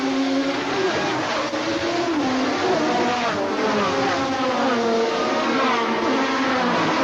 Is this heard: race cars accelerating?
yes